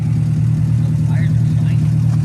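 An Acura Integra fitted with a Mishimoto radiator idles, giving a loud, steady low engine rumble that stays even across the short moment.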